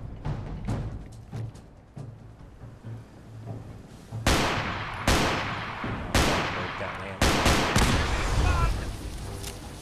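Pistol fire in the game Fallout 4: a string of sharp, loud shots, sparse and irregular at first, then heavier cracks with echoing tails, some overlapping in quick succession.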